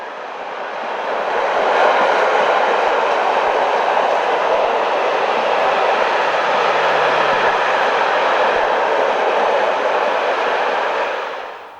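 Arctic Rail Express container freight train running on the Malmbanan ore line through northern Sweden toward Narvik, a steady loud broadband rumble and roar of wheels on rails, rising in the first two seconds, holding throughout, then easing off at the end.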